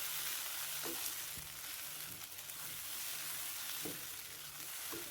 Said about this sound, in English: You'll then add in your tomatoes.